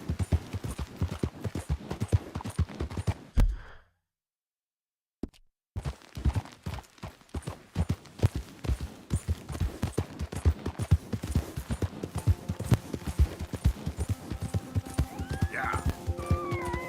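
Horse hooves clip-clop steadily in Red Dead Redemption 2, a quick repeating rhythm of close, sharp hoof strikes that drops out for a brief silent gap, then resumes with neighs and whinnies mixed in toward the end.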